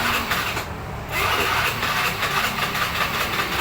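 A carbureted Honda Beat scooter's electric starter cranks its engine, producing a steady whirring grind that briefly drops out for a moment before resuming, up close and fairly loud.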